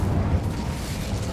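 The Incendio fire spell is cast in Hogwarts Legacy, giving a short, dense roaring burst like a rush of flame. It is loud and close and sustained for just over a second.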